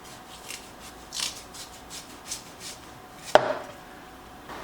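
Knife slicing the white rind off a watermelon half, with soft, faint scraping strokes and one sharp, louder cut near the end, close by and with no talk.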